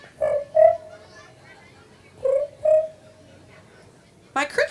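A voice imitates cricket chirping with two pairs of short, nasal chirps separated by a pause, then a brief burst at the end, fairly close and moderately quiet.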